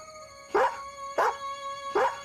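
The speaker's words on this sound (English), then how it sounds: "Using his last ounce of strength, Sparky pulled Bo right to the front door and barked." A dog barks at a front door, giving three separate loud barks evenly spaced over a steady background tone.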